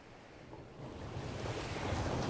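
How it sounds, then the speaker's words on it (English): Ocean waves surge and crash against a cliff below old castle ruins, a broad rushing roar that swells steadily louder, with wind blowing through it. "Waves crashed against the cliff."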